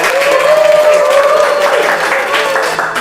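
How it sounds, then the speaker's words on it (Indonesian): Audience applause at a religious samrah music show, a continuous bed of clapping and crowd noise mixed under a sustained tonal voice or instrument line. "Tepuk tangan dong, tepuk tangan."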